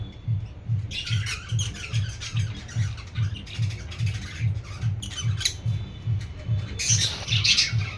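Pet lovebirds and Baazigar birds squabble nearby, with bursts of harsh squawks and scratchy chirps over a steady rhythmic low thumping that pulses throughout.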